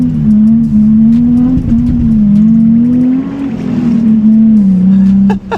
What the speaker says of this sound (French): Vous avez vu les gars, sans ESP, comment la voiture elle patine